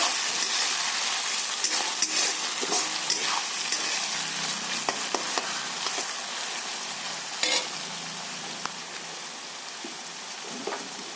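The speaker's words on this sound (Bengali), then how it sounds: "পেঁয়াজটা ভালোভাবে ভেজে নেব।" Onions for chicken curry fry in a pan with a dense, constant sizzle and crackle, broken by scattered clinks and scrapes from stirring, close and loud with no voices.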